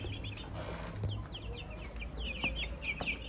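Hybrid chicks give quick, high chirps in irregular bursts over a low, steady background hum, close by and fairly quiet, with no talking.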